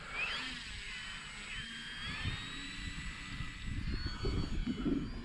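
Engine of an FMS P-40B Flying Tiger RC model plane during a takeoff run from grass, a steady high whine with rising pitch sweeps as the throttle changes, fairly close and moderately loud, with scattered rumbling and ground noise underneath.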